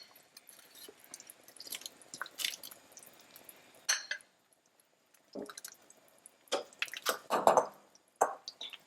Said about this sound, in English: I'm giving it a little stir.